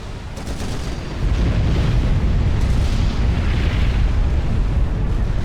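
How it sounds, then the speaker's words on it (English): A wave of tactical missiles detonates against a commander in the strategy game Supreme Commander Forged Alliance, a continuous roaring rumble of overlapping blasts that swells after the first second and stays loud. "this is a lot of tactical missiles coming in"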